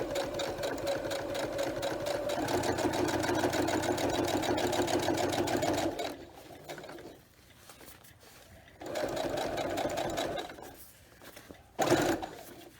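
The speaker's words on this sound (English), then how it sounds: "The only time this machine gets used is when I need a zigzag stitch for something." A clunky sewing machine in need of service stitches a vinyl zipper pouch, running in a fast steady whir for several seconds, pausing, then starting again in shorter bursts with a sharp clunk near the end.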